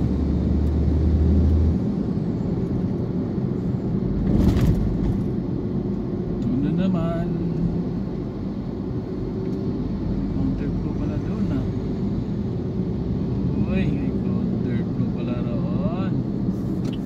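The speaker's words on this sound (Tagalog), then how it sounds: "Friday traffic." Friday road traffic on the NLEX expressway rumbles continuously as a steady low drone of engines and tyres, with a brief louder passing swell early on and faint squeaks, heard from inside a moving vehicle.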